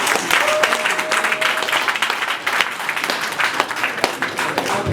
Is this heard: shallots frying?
no